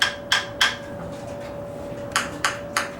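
A hammer strikes the solid cast bellhousing of a 1990 Ford-mounted 4BT diesel engine in two quick groups of three sharp, dull knocks, close and loud over a steady background hum.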